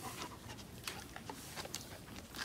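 A small dog pants steadily on a hiking trail, quick, soft breaths repeating close by against a low, rustling outdoor background.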